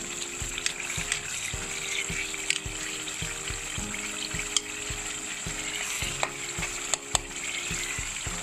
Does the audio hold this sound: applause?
no